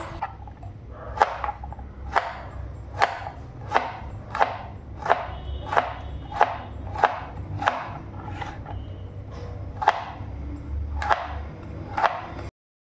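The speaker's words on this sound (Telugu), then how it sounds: "ఇక్కడైతే నేను ఇక్కడ ఇలా రౌండ్గా కట్ చేసుకుంటున్నాను" A knife slices bitter gourd into thin rounds on a cutting board, about fourteen crisp, evenly spaced chops, close and clear, with no talking.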